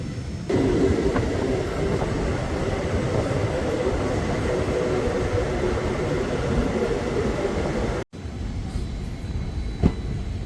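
The 16545 Yeshwantpur–Sindhanur Express, diesel hauled, rolls along with a loud steady rumble and rattle, broken by one abrupt sharp drop partway through before the running noise resumes.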